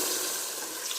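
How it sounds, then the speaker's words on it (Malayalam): Hot water poured into a cooking pot while making chicken majboos. A brief, soft, steady stream of pouring liquid, fairly quiet, with no talk. "ചൂട് വെള്ളം കൊടുക്കുന്നത്."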